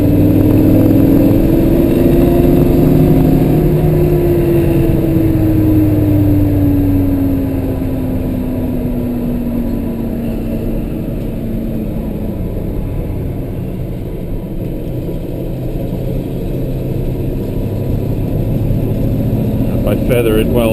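A 1969 Chevelle SS 396 V8 idling cold and hesitating, a loud low engine rumble that rises in pitch early, then settles and wavers unevenly while someone talks over it.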